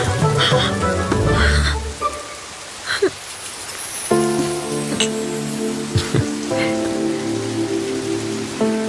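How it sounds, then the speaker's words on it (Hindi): Rain begins to fall in a Hindi film scene, a steady patter on surfaces joined by loud, repeated frog croaks, with music-like tonal layers rising underneath partway through. "बरसात शुरू।"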